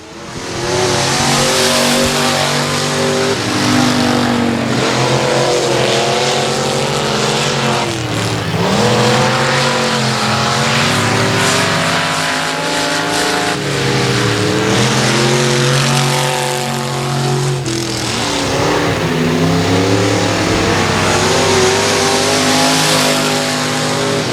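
Stock cars racing at Texarkana 67 Speedway, engines roaring and revving continuously as the pack circles, loud and sustained with rising and falling pitch as cars pass.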